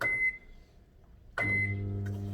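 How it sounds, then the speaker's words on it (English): A microwave oven used to warm food for a spaghetti dish: its steady low hum starts after a brief pause, running close and continuous, with a tonal beep-like note near the start. "so I can use microwave, no problem"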